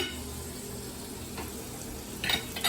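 Steak fries in a hot pan in a cooking competition, with a soft, steady sizzle close by and a few sharper crackles near the end.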